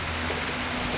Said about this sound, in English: heavy rain on the odd occasion, and just this stuff just falling out of the sky